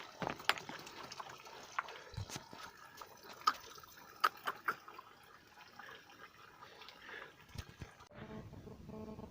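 Water trickles and drips from a mountain spring beside a built stone path on an Italian alpine trail, a soft continuous liquid patter broken by brighter splashy drips and faint rustles.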